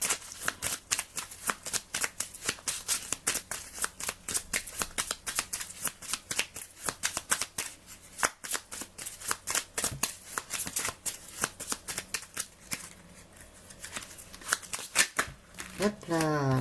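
Oracle cards shuffled by hand in a love-reading session, a long run of quick crisp riffling slaps and flutters, close and steady, with a voice speaking softly underneath near the end.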